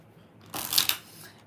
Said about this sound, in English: 4 shuffles for Jalen.